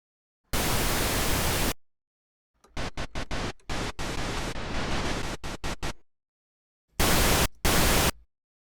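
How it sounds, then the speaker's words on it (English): Bursts of steady broadband synthesized pink noise, some long and some chopped into rapid short pulses, loud and alone with silent gaps between. "So I'm going to go with just noise, pink noise."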